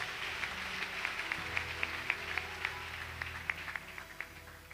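Scattered clapping from a church congregation during a worship service, a steady patter of hands with sharper individual claps, moderately distant and fairly soft, no talking.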